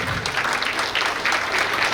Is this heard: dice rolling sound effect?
no